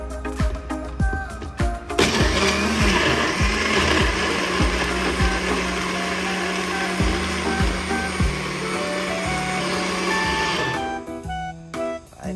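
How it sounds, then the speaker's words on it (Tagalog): A blender mixes kapeng barako coffee with moringa, running as a loud, steady, close whir for about eight seconds. Brief clatters and knocks come before it starts and after it stops. "Yan, blender kapeng barako, extra energy with moringa."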